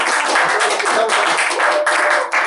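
An audience at a bookstore talk applauds guests with close, lively clapping from a small crowd. The claps are irregular and dense and continue throughout.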